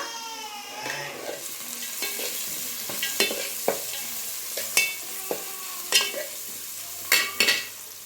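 Onion frying in oil with turmeric for poha chitranna, a steady soft sizzle broken by a series of sharp metallic scrapes and clinks as a spoon stirs the pan, close and clear.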